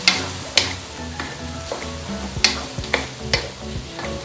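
Pork dinuguan stew stirred in a pan, a soft sizzling bubble broken by sharp scraping strokes of a utensil at irregular intervals, close and moderately loud.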